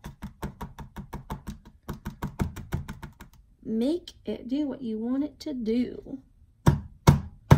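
Sharp repeated taps from a pour painting being knocked against the table to shift the wet paint, a fast rhythmic run of close knocks, then talking, then a few more loud taps.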